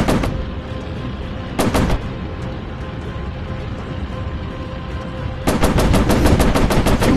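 Rapid bursts of aircraft machine gun fire in the Warplanes VR flight combat game, a short volley near the start, another around two seconds, then a long sustained stream of loud, closely spaced shots at the end.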